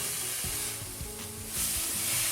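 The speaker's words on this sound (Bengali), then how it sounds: "এখন ভালো করে এটা আমরা ভাজা ভাজা করে নেব কিছুক্ষণ নেড়ে অনবরত নাড়তে হবে" Drumstick flowers fry in a pan with a steady sizzle and repeated scraping strokes as they are stirred, close and moderately loud with no talking.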